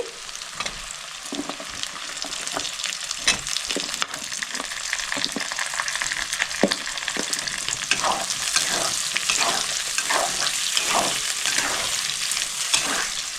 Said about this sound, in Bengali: আমি এবার ক্যাপসিকাম দিয়ে দিচ্ছি।